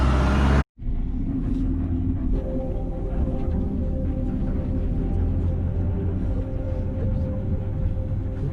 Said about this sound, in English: I think that might be our bus.